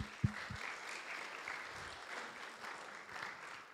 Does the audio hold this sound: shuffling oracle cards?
no